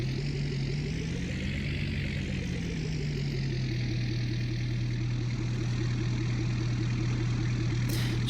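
A Ford F-series truck idles in Farming Simulator 19 with a steady, close, low engine drone. A gentle rise and fall in pitch near the start suggests a light blip of the throttle before it settles back to an even idle.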